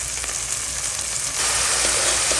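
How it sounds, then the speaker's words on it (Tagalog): Tomato sautéing with fish sauce, garlic, onion and ginger sizzles steadily in a hot pan, the frying growing brighter and louder halfway through, close and continuous with no voices. "Igisa natin sa patis po ang ating kamatis,"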